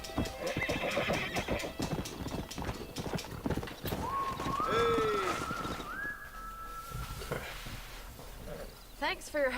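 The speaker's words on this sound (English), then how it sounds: "We got some fine horses." Horses in the Western video game Red Dead Redemption whinny and neigh loudly with a long rising-falling call, over steady clip-clop of hooves and background voices talking.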